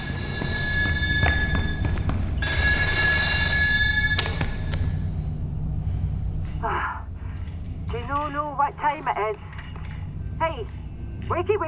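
An old telephone bell rings inside a sinking offshore oil rig in the game Still Wakes the Deep, bright metallic rings in bursts near the start under rumbling ambience, followed by someone talking.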